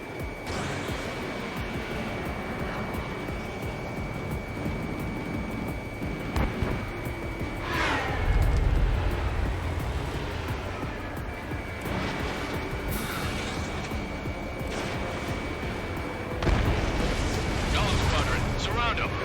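A fighter jet fires missiles in Ace Combat 7 amid a steady engine roar, with several heavy booming explosions rising over the din and voices talking throughout.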